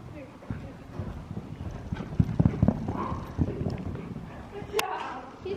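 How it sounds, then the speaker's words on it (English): A horse canters in an arena, with rhythmic hoofbeats thudding in repeated groups at moderate distance, under some faint talk and background noise. "I'm probably going to canter in the line."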